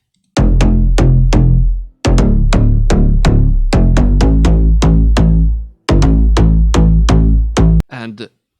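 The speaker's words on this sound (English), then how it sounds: "The bass line sounds like this." A deep house bass line built from stacked Serum synth presets: loud, punchy plucked notes with heavy low end in a bouncy repeating rhythm, split into three phrases separated by brief gaps, with a short murmur at the end.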